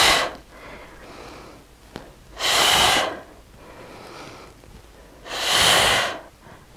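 Heavy breathing during a bodyweight home workout: two long, loud, close exhalations spaced about three seconds apart, with quieter breaths between them.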